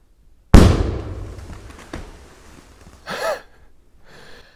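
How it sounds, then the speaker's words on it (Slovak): A Cobra 8 firecracker blows up a dry tree outdoors: one sharp, loud blast followed by a decaying rumble, a fainter crack about a second and a half later, then brief rustling and creaking as the tree falls. "čakal som predsa len ten výbuch trošku väčší"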